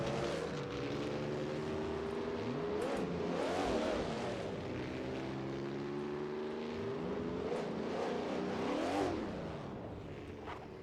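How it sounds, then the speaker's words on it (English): Race cars in Assetto Corsa at the 1939 Eläintarhanajot in Finland, engines droning and revving with rising and falling pitch sweeps, several cars audible together at a steady, fairly loud level. "Can I start the engine?"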